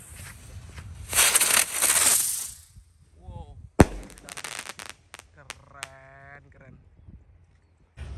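A ski cruiser firework going off, with a long fizzing hiss, a sharp loud bang, then scattered crackles and whistling squeals trailing away over several seconds.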